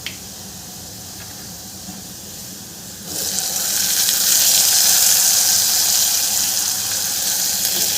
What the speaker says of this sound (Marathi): आता यामध्ये टोमॅटो घालून घ्यायचे आहे